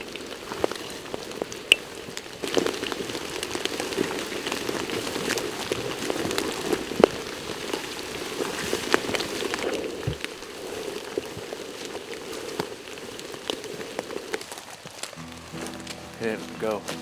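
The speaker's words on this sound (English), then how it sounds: "It's raining so hard, and it's been raining for the better part of 2 weeks." Heavy rain pours steadily in a forest where deer are being bowhunted, a dense continuous patter with scattered louder drops throughout, while people talk over it.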